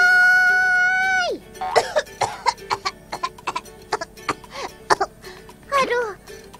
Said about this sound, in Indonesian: Baru coba teriak sedikit, sudah batuk-batuk